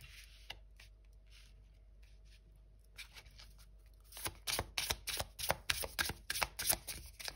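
Tarot cards are handled and turned over on a table: quiet shuffling at first, then a run of crisp, close card slaps and flicks in quick succession.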